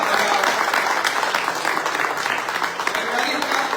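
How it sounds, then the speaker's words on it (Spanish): A church congregation claps loudly and continuously in a dense, steady wash of applause, with a voice faintly audible beneath it. "denle un fuerte aplauso al Señor"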